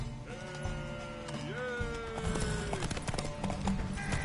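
Horse hooves galloping during a race in a video game, a continuous clattering beat under music-like tones and other game sounds, with little talk.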